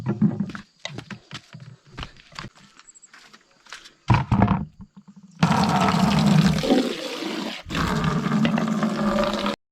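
Water from a bucket is dumped onto chilli plants growing in soil, heard first as scattered splashes and short gushes, then as two long, loud, close-up rushing pours.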